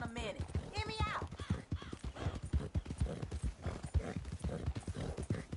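Horse hooves clip-clopping at a steady run in the video game Red Dead Redemption 2, close and rhythmic, with a horse whinny early on and a person talking over the hoofbeats throughout.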